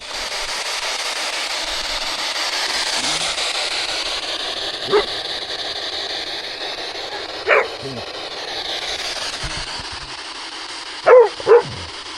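A dog barks a few short, sharp times, with gaps between them, over a steady outdoor hiss on a hill.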